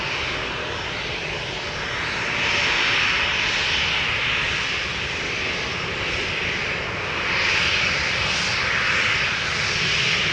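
A KLM Boeing 737-800 departs Amsterdam Schiphol for London Heathrow, a loud, close jet roar with a hissing high edge that swells twice as the thrust builds, steady throughout.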